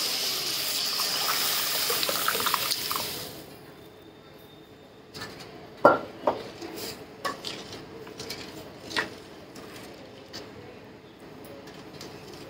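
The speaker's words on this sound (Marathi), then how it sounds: "डाळ ओतून घेते मी" Dal is poured into a pot of hot spiced tempering in a home kitchen, a broad wet hiss at first that settles into faint clinks and a few soft utensil knocks against the pot.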